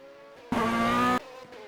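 A single endurance race car in a sim-racing game of the 6-hour Magny-Cours WEC round roars past in a loud, short burst of engine whine. It fades quickly to a low background hum, with no talk.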